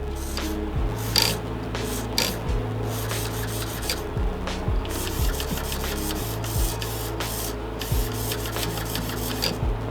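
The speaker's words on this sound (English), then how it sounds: "So with the transmitter on, we'll turn the control arm. Got it set. We can hear that thing twist." An RC drift car servo twisting the control arm grinds and whirs in short mechanical bursts, close up, with steady buzzing and intermittent clicks repeating over ten seconds.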